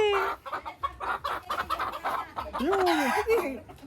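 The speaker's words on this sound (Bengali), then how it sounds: "মুরগি" Chickens cluck and squawk close by in a rural yard, a rapid run of short calls with a rising, drawn-out cackle near the end, with a voice speaking among them.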